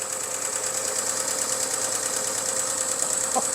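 A Chrysler Slant 6 engine running steadily before shutdown, an even, continuous mechanical drone with a rapid ticking knock, close and moderately loud with no talk.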